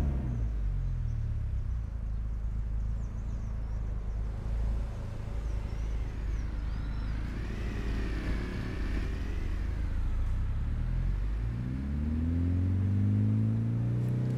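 A Gol G2 car engine in Euro Truck Simulator 2 droning steadily and rising in pitch as it accelerates, a continuous close rumble with a revving climb near the end, no talk.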